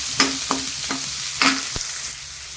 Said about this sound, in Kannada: 1 ಈರುಳ್ಳಿ ಇದರಲ್ಲಿ ಹಾಕಿ ಫ್ರೈ ಮಾಡಬೇಕು